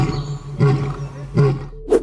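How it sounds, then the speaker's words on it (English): A lion in a zoo enclosure gives repeated deep roars, three bursts about every three quarters of a second, close and loud, set against a steady low hum. "While patting the enclosure multiple times and getting roars from the lion"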